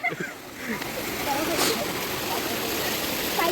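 Water flowing and splashing along a stream outdoors on a college trip, a steady broadband rush with brief splashes, heard under background voices.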